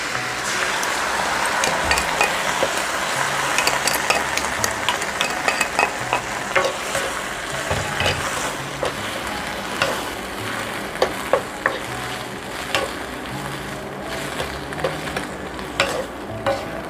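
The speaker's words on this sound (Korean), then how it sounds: "해서 이거를 고추 먼저 볶아줍니다" Shishito peppers stir-fried with sliced garlic and sauce crackle and sizzle steadily in a pan, with frequent scraping stirs and clicks of a utensil against the metal, close and continuous with no talking.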